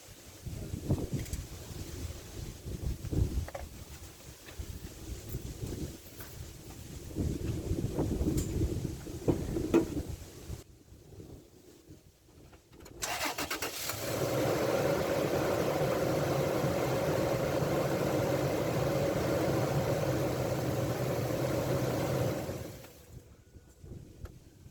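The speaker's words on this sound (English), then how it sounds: "I'm going to start the vehicle and show you that it starts with no problem" A truck with a recently serviced battery starts after a quiet stretch, its engine catching and then settling into a steady, moderately loud idle that runs evenly for several seconds before cutting off.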